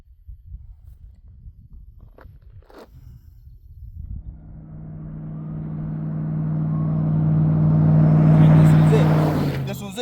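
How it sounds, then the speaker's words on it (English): After a bit of quiet handling noise, a car engine rises from far off, growing steadily louder as it nears, then tails off at the end. "I think I hear a car"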